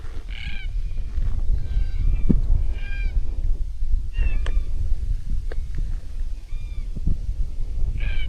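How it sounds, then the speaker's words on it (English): Red-tailed cockatoos call from a distance along a breezy country road, a few harsh, scattered cries standing out over steady low wind rumble. "Cockatoo, red-tailed."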